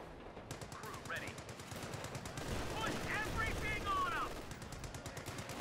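Machine gun fire in Company of Heroes 2, a sustained rattling burst of rapid shots amid battle noise, with a commentator's voice talking over it.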